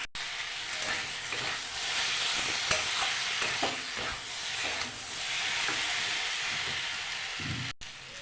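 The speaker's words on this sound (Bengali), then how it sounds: "আর কিছুক্ষণ আমি কষিয়ে নেব টমেটো দিয়ে।" Spiced masala with tomatoes is stirred and fried in a pan for a Bengali fish curry, giving a steady soft sizzle with scraping spatula strokes at moderate distance and no talk.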